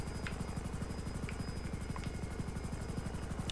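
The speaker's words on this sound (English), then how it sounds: "It's a nice, smooth helicopter for flying and cinematic, actually." A Hunter Killer attack helicopter in a flying video game thrums steadily with a fast, even rotor chop and constant turbine whine, close and continuous with no talk.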